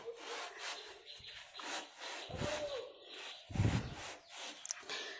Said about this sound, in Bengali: এই গ্রিলটা আমি এখন ঘষে নিয়ে পরিষ্কার করে তোমাদের কাছে আসবো